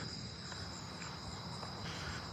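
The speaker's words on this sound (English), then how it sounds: "I hear a broadwing tree cricket over there." A broad-winged tree cricket calls at night with a continuous high-pitched trill, moderately faint and steady, while other insects fill the background and no voices are heard.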